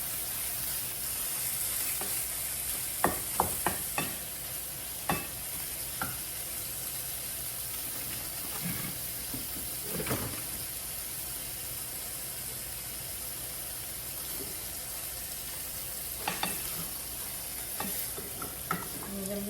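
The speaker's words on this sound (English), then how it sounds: "Stir fry green pork meat first. Butter and garlic." Pork stir-fries in butter and garlic, a steady close sizzle throughout with occasional scraping clicks of a utensil stirring the pan.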